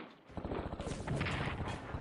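Heavy artillery fire in the WWII strategy game Strategic Command, a dense, rumbling barrage of rapid overlapping blasts that sounds loud and sustained.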